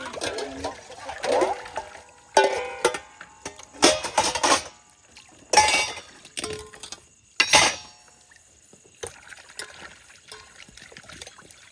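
Pots, pans and utensils clink and knock during evening dishwashing at home, with running water trickling in between; bursts of clatter come and go close by, and a voice speaks under the clatter.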